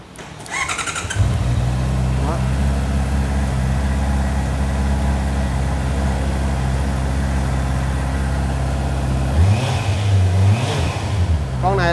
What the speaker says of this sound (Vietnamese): Bốn máy thì anh em mình nói chung là máy nổ rất là hay luôn anh chị